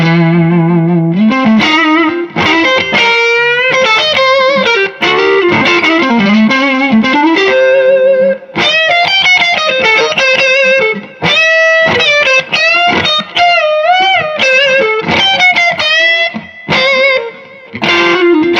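Electric guitar played through a germanium boost pedal into a Supro 1970RK Keeley Custom amp, a thick, driven tone with chords and melodic lines ringing out, no talking.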